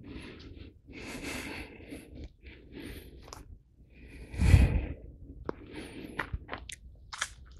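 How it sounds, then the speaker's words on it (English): A person exaggerates breathing out through the mouth, producing a series of breathy, wheezy exhalations with brief pauses. One heavier, louder puff comes near the middle, followed by a few short sniffs and clicks. "okay, I'm breathing out through my mouth."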